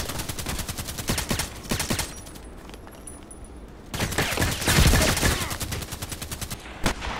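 Rapid bursts of gunfire in the Contract Wars shooter, with a KelTec RFB carbine in play and shots piercing a wall, crackling in repeated volleys with a short lull in the middle before resuming loud and dense.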